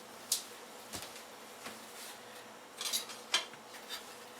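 A kitchen knife is fetched from a drawer of cutlery in a home kitchen while bread is sliced: a few sharp, light metallic clinks spaced irregularly, fairly quiet, with soft rustling between them.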